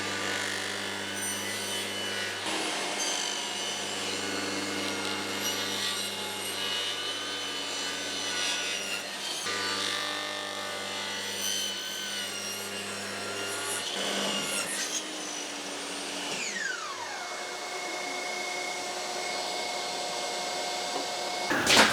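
Table saw with a crosscut blade cutting a raised panel at an angle, a loud, continuous whining motor and rasping cut that runs for a long stretch, then the blade pitch glides downward as the saw spins down.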